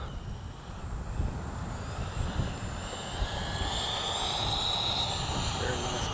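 A Freewing 90mm T-45 RC jet on landing approach with flaps down, its ducted-fan whine rising steadily through a windy outdoor rumble, moderately far and growing louder toward the end.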